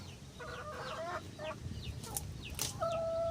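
Laying hens cluck in short, uneven bursts nearby, with a few higher squawks and a longer drawn-out call near the end.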